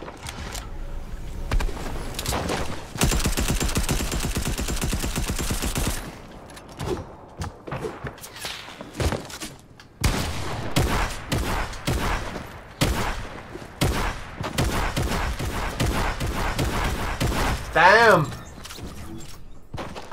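Sniper and other gunfire in Fortnite, with bursts of rapid shots, sharp single cracks and a brief mechanical whine, loud and close, alternating with quieter gaps.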